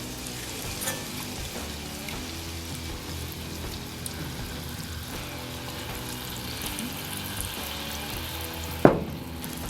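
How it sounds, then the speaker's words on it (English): Frank's Red Hot sauce being whisked into melted butter makes a soft, continuous sizzle and liquid stirring, with light clinks from the whisk and one sharp knock near the end. No one speaks. "Once those are together, take your whisk and give it a stir."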